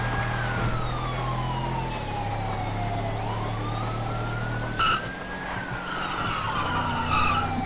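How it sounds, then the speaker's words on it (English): Tyres skid and a car engine whines through a long drift in GTA V, pitch sweeping down and back up, with a siren-like wail layered over a low steady drone. "Nice drift."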